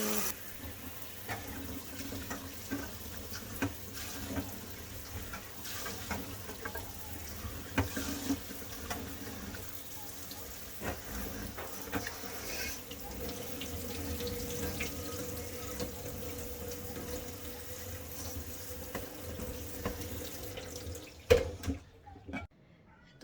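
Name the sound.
washing cut taro root under a running tap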